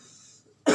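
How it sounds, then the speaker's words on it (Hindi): A single sharp cough from a Hindi-speaking English grammar teacher in a hot room, close and loud, bursting out after a brief quiet pause. "थोड़ा खांसी हो गया"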